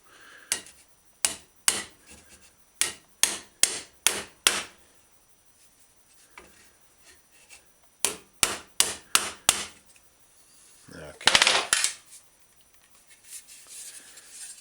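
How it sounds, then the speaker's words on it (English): A ball peen hammer strikes a Schwinn bicycle fender in two quick bursts of sharp metallic taps, several blows each, with a short scraping rustle near the end. "We're going to use the ball peen right on there."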